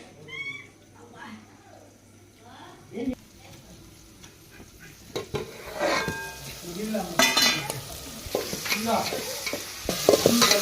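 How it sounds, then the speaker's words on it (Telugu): Vegetables fry and are stirred in a pan, scraping and sizzling softly at first, then growing louder and busier toward the end, while people talk nearby over the cooking. "వెజిటేబుల్ మొత్తం అయితే బాగా ఏగినాయి కదండి"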